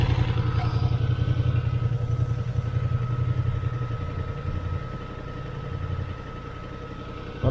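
A Honda Hornet motorcycle idles nearby with a steady low engine rumble, and its cooling fan adds a constant whirring hum that stays even throughout.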